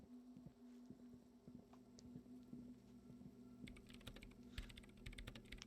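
Faint, rapid keyboard typing clicks from the video game Disco Elysium in irregular bursts over a low steady hum, the tapping growing busier toward the end.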